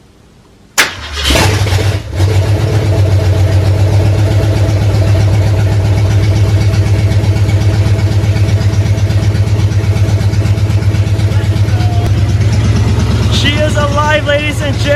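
A 1968 Ford Mustang Fastback fitted with new long tube headers cranks briefly and fires on the first try, then settles into a loud, steady, rumbling idle held close to the microphone.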